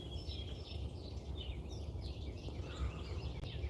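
Several birds chirp and warble high over a steady low rumble of wind or traffic outdoors, fairly faint and continuous.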